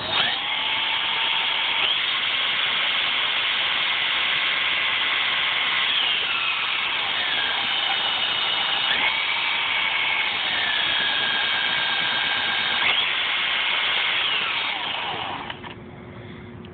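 A power drill whirs steadily, spinning an 8600 W, 24-pole hobby motor with a high, continuous whine that shifts pitch a few times before winding down near the end.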